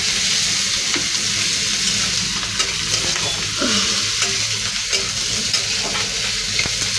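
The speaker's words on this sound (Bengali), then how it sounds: "এটা একটু লাল লাল করে ভাজা হয়ে গেলে" Sliced onion and slit green chillies sizzle and fry in a pan for a light home-style curry, a steady close hiss with occasional stirring scrapes and no talk.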